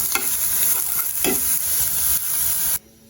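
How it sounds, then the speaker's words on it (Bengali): Peas and potatoes fry in a pan with steady loud sizzling and a few scraping stirs, cutting off abruptly near the end. "এই যে এখানে মটরশুঁটি আর আলু ভাজি দুটো মিক্স করে ভাজছি"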